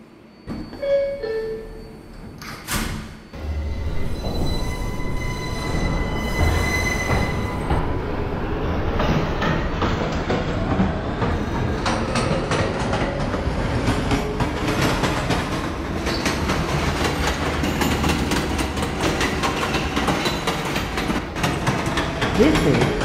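A Pelham Bay Park bound 6 local subway train rolls along, steady loud rumble and clatter of wheels on rails filling the ride continuously, with a brief announcement-like voice and door sounds near the start.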